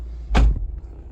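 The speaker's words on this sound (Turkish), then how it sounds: "Kapıyı kapatayım ses gelmesin" A Renault Kadjar 1.5 dCi door swings shut with a single solid thud close by, its low impact briefly followed by a softer settling knock, then a quiet cabin hum.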